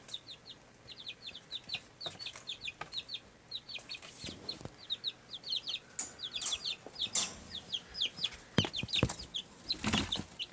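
Chickens clucking and chirping in a rapid, steady patter close by, with occasional scuffs and knocks around them.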